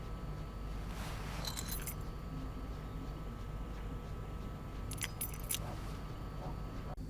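A bunch of keys jangles in the video game Life is Strange Before the Storm, two bright metallic rattles over a low steady engine hum.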